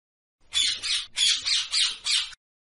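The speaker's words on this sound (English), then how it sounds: "P-A-R-R-O-T. Parrot." Loud, harsh parrot squawks in a rapid series of about six calls, close and unaccompanied by other sounds.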